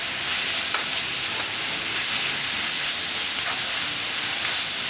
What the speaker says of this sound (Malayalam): ഇതിലേക്ക് അരിഞ്ഞു വെച്ചിരിക്കുന്ന സവാള ചേർത്ത് വഴറ്റി കൊടുക്കാം ആവശ്യത്തിനുള്ള ഉപ്പ് ചേർത്ത് കൊടുക്കാം ഇതോടൊപ്പം തന്നെ ഇഞ്ചിയും വെളുത്തുള്ളിയും പച്ചമുളകും ചേർത്ത് വഴറ്റി കൊടുക്കാം